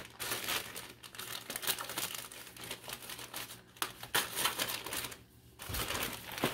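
Scissors snip and crinkle through plastic packaging close up, with rustling and crackling as the wrapper is cut and pulled open.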